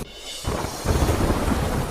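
Heavy rain pours down in Surat as a thunderclap breaks in suddenly after a brief quieter moment, then loud rumbling and hiss carry on together.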